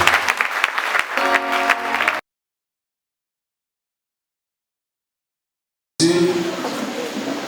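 A church congregation claps and acclaims Jesus, with dense applause and raised voices broken by a cut of several seconds of silence, then resuming with the same crowd clapping and cheering.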